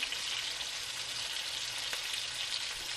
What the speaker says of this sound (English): Add orange juice to the skillet and reduce heat.